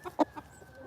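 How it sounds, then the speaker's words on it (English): A chicken gives a few short, close clucks, with one louder cluck standing out among softer ones in a quiet setting. "You trying to see what them other chickens is doing."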